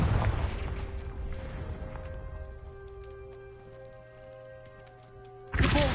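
A Confringo blast spell in Hogwarts Legacy erupts with a loud, broad burst that rings out into a sustained magical shimmer of steady tones, then a second sharp blast strikes near the end.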